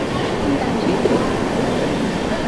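The Rajdhani Express train rolls past another train near Ghatkopar railway station in Mumbai, giving a loud, steady, broadband rushing rumble throughout, with a voice faintly talking under it.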